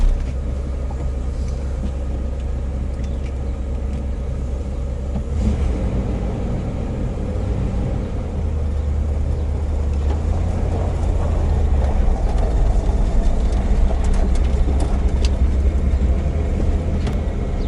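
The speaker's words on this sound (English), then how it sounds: "So we just bought this truck and now we're driving it home" A 1990 Dodge W150 Power Ram pickup truck driving on the road, heard from inside the cab as a loud, steady low engine and road rumble that swells slightly as it moves along, with no talking.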